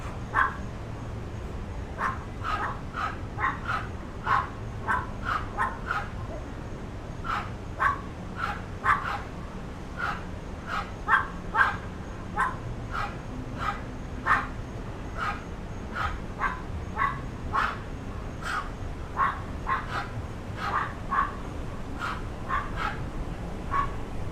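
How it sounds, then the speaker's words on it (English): Dogs barking on a Thursday evening around downtown Miami and Brickell Key: sharp, repeated barks come in steady bursts for the whole stretch, moderately close over a low background hum, and they never let up. "We've got some killer dogs here."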